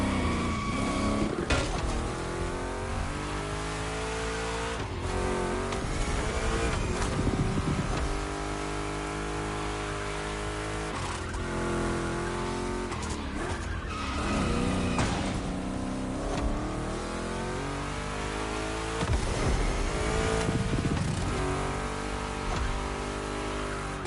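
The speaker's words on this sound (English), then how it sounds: "Two Chevys, two big blocks, but only one winner." Two Chevy big-block race cars roar through a race in The Crew Motorfest, engines loud and continuous with repeated revving surges, gear shifts and brief tire squeals, all close and dominant with no voices over them.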